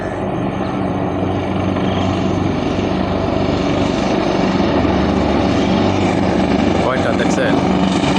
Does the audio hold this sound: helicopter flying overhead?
yes